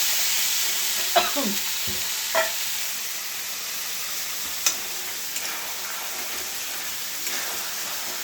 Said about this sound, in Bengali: তো বন্ধুরা এখানে চিকেন রান্না হচ্ছে, চিকেনটা কষা হচ্ছে।